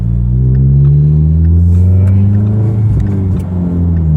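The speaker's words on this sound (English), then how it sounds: "Right now, car's running like it should." A 2016 Ford Mustang EcoBoost fitted with a Maperformance turbo upgrade revs up and settles, its engine rising in pitch then easing back in a loud, close, continuous rumble with no voices.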